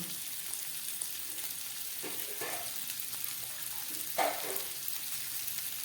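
Cauliflower and potatoes fry with ground spices and black pepper in a pan, giving a soft, steady sizzle with a few brief stirring scrapes and no talking.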